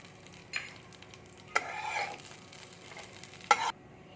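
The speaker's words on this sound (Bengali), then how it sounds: "এটাকে আমি একটু হালকা করে ভেজে নেবো" Cashews and raisins frying lightly in a pan while being stirred for a flattened-rice dessert, a soft steady sizzle broken by a few sharp scraping stirs, close and fairly quiet with no talking.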